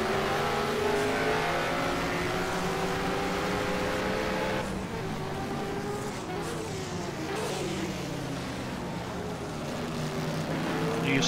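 A Can-Am race car from the 1971 Can-Am Challenge Cup at Donnybrooke accelerates through the final corner, its engine roaring loud and revving with rising and shifting pitch, joined by other passing engines, under commentary.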